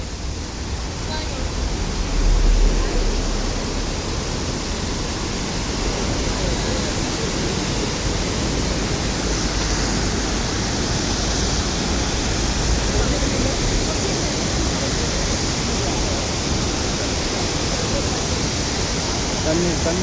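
Loud, constant roar of Ravana waterfall in Sri Lanka, a dense rushing wash of water filling the whole scene without letting up.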